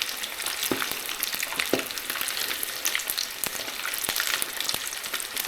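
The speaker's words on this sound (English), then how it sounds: "And these are going to fry for about 5 minutes." Salt and pepper chicken wings frying in oil, a dense continuous crackling sizzle with a few occasional knocks and clicks, close up.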